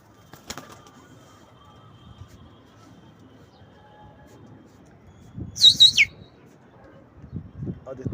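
Pigeons in a loft, with a short cluster of bird calls rising briefly above low background rustle and faint murmuring, followed by a few softer low sounds.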